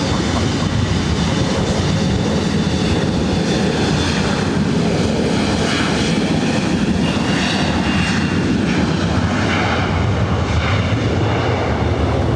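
A Delta airliner at LAX gives a sustained, loud jet engine roar with a rumbling low end and shifting whine, close by and continuous the whole time.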